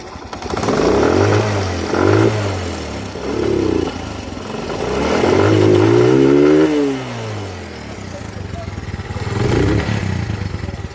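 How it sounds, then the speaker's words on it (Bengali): A secondhand Honda 80cc motorcycle engine idles and revs in several rising-and-falling surges, close by and loud, settling back to a steady idle between bursts. "ইঞ্জিনের স্মুথ সাউন্ডটি শুনুন।"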